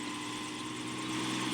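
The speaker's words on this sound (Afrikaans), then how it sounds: "dis 'n helikopter, Eksie, nie 'n meeliepomp." A cartoon helicopter flies overhead, a steady droning engine and rotor whir that holds evenly and swells slightly toward the end, with no voices.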